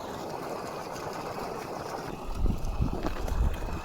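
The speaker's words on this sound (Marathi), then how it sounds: "बघा पाणी आहे का नाही, फ्लो एकदम फास्ट आहे." Fast-flowing irrigation water rushing through a channel in a farm field after methi (fenugreek) was grown, a steady broadband wash with wind on the microphone, growing louder and more turbulent near the end.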